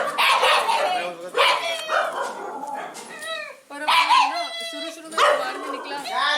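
Several dogs at a dog shelter in Agra bark and yip in repeated bursts, close and loud, with someone speaking between and over the barking.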